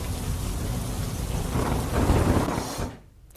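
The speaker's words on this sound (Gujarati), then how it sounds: "સચિન, હજીરા, મગદલ્લા સહિતના વિસ્તારોમાં વરસાદી માહોલ સુરતમાં હાલ જોવા મળી રહ્યો છે।" Heavy rain pours steadily during a monsoon shower in Surat, a dense, loud roar that fills the space with a surge near the end before it drops away abruptly.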